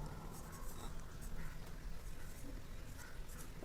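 Handwriting during a maths lesson on square and cube roots, a steady scratchy rustle of pen or chalk running continuously against a noisy room background, with no clear talk over it.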